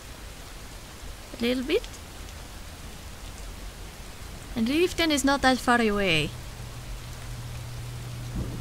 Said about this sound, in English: The rain is not letting up. But the thunder might be.